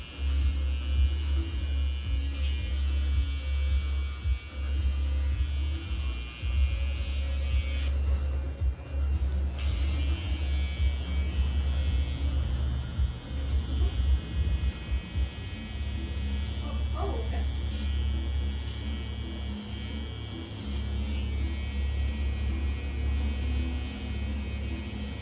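Electric hair clippers run steadily with a low buzzing drone through a very light buzz-cut taper, the motor hum continuous and close with brief dips as the blade lifts from the hair.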